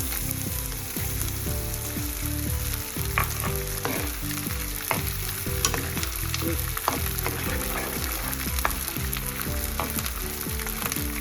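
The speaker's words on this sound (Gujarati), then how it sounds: "આ ગુંદ બધોય તળી લેશું।" Edible gum (gond) fries in hot ghee for Adadiya Pak, a winter sweet, giving a steady, close crackling sizzle with small pops and occasional stirring scrapes throughout, over soft background music.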